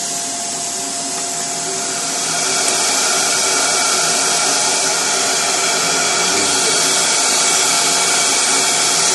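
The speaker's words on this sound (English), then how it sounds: "I'm going to go ahead and turn on the vacuum" A vacuum running beside a CNC machine drilling circuit-board holes, with a loud, steady high-pitched whine that swells slightly after a couple of seconds and holds constant.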